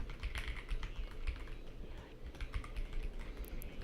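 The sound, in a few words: typing on a computer keyboard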